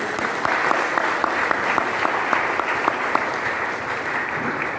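A seminar audience claps loudly and continuously, with a few sharp individual claps standing out above the steady, dense applause.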